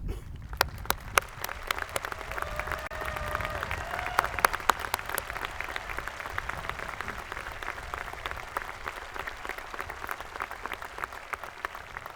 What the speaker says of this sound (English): Please join me in applause as I ask our faculty to stand and be recognized.